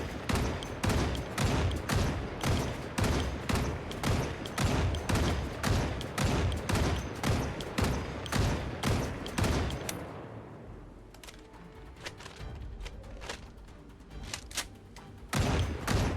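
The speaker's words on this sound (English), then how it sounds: "And I'm sure the moment I start shooting, we're gonna have some new friends coming in." Rapid bursts of Mini 14 rifle fire in the zombie survival game Project Zomboid, loud and tightly spaced for about ten seconds. Then the shooting stops, a quieter stretch with faint knocks follows, and a single loud shot comes near the end.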